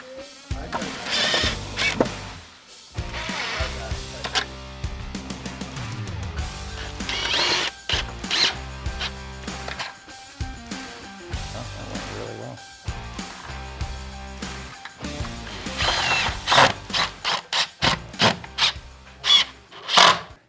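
Screws being driven into a wall with a square drive bit, bursts of grinding, rasping mechanical whirring that start and stop repeatedly, close and fairly loud, with brief pauses between runs.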